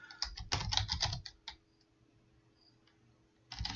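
A computer keyboard being typed on as a command is entered at a command-line tool, with a quick close burst of key clicks, a pause, and then a few more keystrokes.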